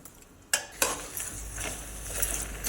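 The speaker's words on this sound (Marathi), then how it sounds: "गॅसवर असं हलवायचं हे गुळ आणि हे आवळ्याचं जे मिश्रण केले ना ते एकत्र झालं पाहिजे" A spoon stirs an amla and jaggery mixture in a pan on a gas stove, with a couple of sharp metallic clanks followed by continuous scraping and faint bubbling close by.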